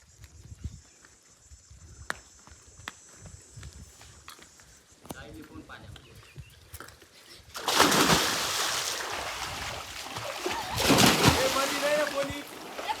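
Water splashes loudly as someone jumps in to bathe at a village swimming spot, two big bursts of spray following quieter ambient noise, with people's voices around.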